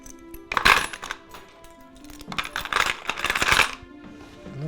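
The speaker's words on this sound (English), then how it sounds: "Keys." Metal keys clink and jingle as they are set into a drawer compartment, two or three bright clattering bursts close by with brief pauses between, no talk.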